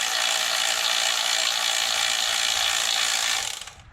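A ratchet works 10 mm bolts on a 2010 Honda Accord 2.4 engine, giving a continuous dense whirring rattle held close and loud for several seconds before it cuts off abruptly.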